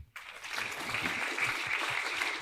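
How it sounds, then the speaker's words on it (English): Audience applause at a conference session on ASEAN disaster management, a steady, dense wash of clapping that starts abruptly after a brief silence and holds at an even level throughout. "a round of applause"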